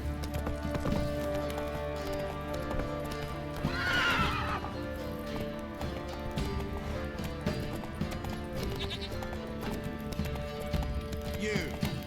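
Horse hooves clip-clopping at a gallop in The Witcher 3, with occasional neighs over a dense, steady bed of game music and ambience, a voice speaking briefly.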